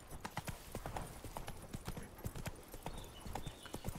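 Horse hooves clip-clop in a steady, close rhythm as a rider travels along a path in the video game The Witcher 3, with the even beat of hoofbeats continuing throughout.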